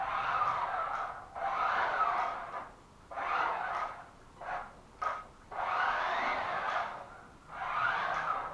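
A hobby-grade MaxTronic waterproof RC stunt car races around a conservatory and kitchen, its electric motor whining and tyres scrubbing in repeated bursts of a second or two, separated by short pauses.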